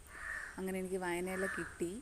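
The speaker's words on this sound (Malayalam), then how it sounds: "കാക്ക കരയുന്നു." A crow caws near a pond behind a house in an overgrown backyard, its harsh calls heard faintly behind someone speaking close by.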